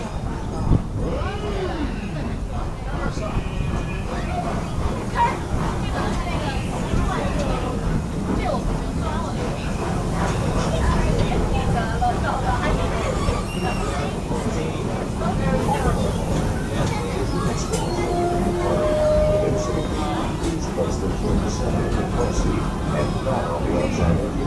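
The red train of the Busch Gardens Railway rumbles along its rails in a steady, continuous roll, with passengers chattering and murmuring throughout.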